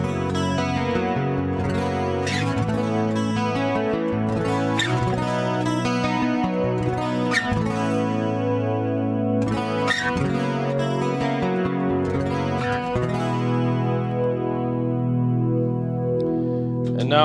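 A plucked guitar through a piezo pickup and a Kemper MK2 with reverb has a bright, twangy acoustic-electric tone, playing strummed chords and notes, each ringing out under a wash of reverb.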